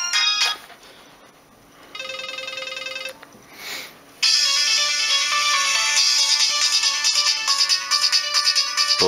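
Another popular ringtone from a Nokia 1280 handset, with short tonal phrases and brief pauses, then a sustained, steadily rhythmic electronic melody, loud and near, no one speaking.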